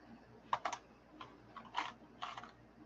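Quiet keyboard typing in short bursts of clicks separated by pauses, close by with no voices.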